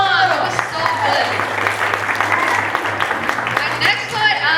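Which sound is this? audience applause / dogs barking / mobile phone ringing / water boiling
audience applause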